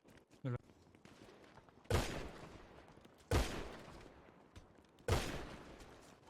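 Gunfire in GTA V, with three sharp, loud shots or short bursts spaced a second or two apart, each trailing off, over low game background and a brief thump early on.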